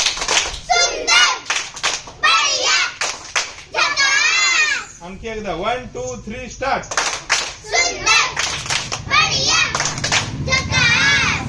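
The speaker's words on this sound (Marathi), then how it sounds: "पहिल्यांदा झकास टाळी 1 2 3 स्टार्ट." A group of schoolchildren claps together in a patterned classroom clapping game, bursts of sharp synchronized claps alternating with a teacher's counting voice and children's chanting, loud and close.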